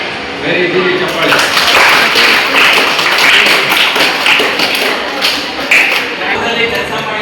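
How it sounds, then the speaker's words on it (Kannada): Schoolchildren clap together in a high school classroom, a dense burst of applause that starts after a second and holds steady and loud for several seconds before thinning out. "ವೆರಿ ಗುಡ್ ಚಪ್ಪಾಳೆ."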